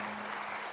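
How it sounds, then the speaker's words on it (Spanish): Church congregation applauding together, a steady dense wash of clapping with a low hum underneath, brief and continuous at moderate distance. "Vamos a dar una ofrenda de palmas"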